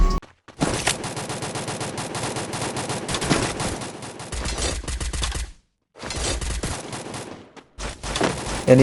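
Rapid bursts of automatic gunfire ring out in a ranked battle-royale match, loud and dense, broken by brief silent gaps between volleys, with no talking.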